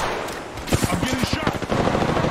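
Rapid gunfire in the battle royale shooter Apex Legends, a burst of close-range shots over a steady game background, with a voice talking over it.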